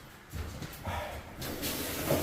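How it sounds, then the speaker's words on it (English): A shower runs during a plumbing leak check, a hissing spray of water that swells and grows louder over a couple of seconds. "All right. Run the shower."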